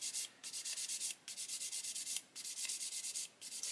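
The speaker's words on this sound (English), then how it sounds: "Just keep sanding until it's all nice and flat." A sanding stick rasps back and forth across a plastic part of a 1/35 scale Chieftain Mk10 tank model kit, close and fairly soft, in short rhythmic strokes broken by four brief pauses.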